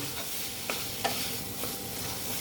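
Matar paneer curry fries in a pan with a steady sizzle, and a few soft scrapes of stirring break through it.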